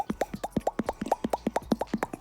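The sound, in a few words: rod-made plopping sound imitating a Whopper Plopper bait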